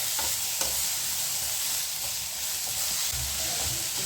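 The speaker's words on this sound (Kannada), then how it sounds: "ಇದಿಷ್ಟನ್ನು ಚೆನ್ನಾಗಿ ಹುರಿಬೇಕು." Spices for mutton curry sizzle and fry in a pan while being stirred, a steady broadband hiss with occasional soft scraping strokes and no voices.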